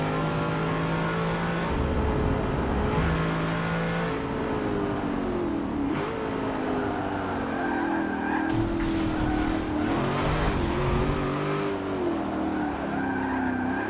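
A race car in Forza Motorsport 7 roars continuously around an alternate Suzuka circuit layout, the engine pitch rising and falling through gear changes, with tire squeal and skidding mixed into the loud, steady game audio.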